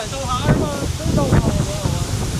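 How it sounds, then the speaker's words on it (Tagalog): Strong wind roars and buffets the microphone on a mountainous site in Hong Kong while a person talks over it, the gusts rising and falling throughout. "sobrang lakas ng hangin dito"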